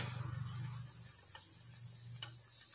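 Beef papaitan broth simmering in a pot gives a steady low bubbling and sizzling bed, louder at first and then settling, with a couple of faint ticks or clinks near the end.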